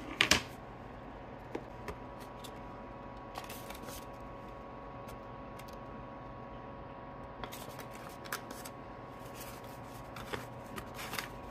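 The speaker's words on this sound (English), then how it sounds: "Let's get my envelopes out." Paper savings envelopes rustle and flap close by, with a sharp crinkle at the start and soft scattered handling sounds over a steady room hum, without talking.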